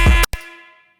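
A roller jump-up bass synth hit with EQ, multi-band dynamics and reverb: a loud, gritty burst, a brief gap, then a second stab whose tonal tail rings out and fades within a second.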